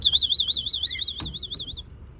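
Camper alarm sounding: a loud warbling electronic siren wavering up and down rapidly, cut short after about two seconds, with a brief knock partway through and quiet background afterward.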